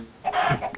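Chickens cluck in a Minecraft survival world, a short burst of game-style fowl clucks rising briefly and fading over less than a second, heard alone with no talk.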